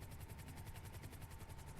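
A video-game helicopter flies close by with a loud, rapid, steady rotor chop and engine whine, heard alone throughout.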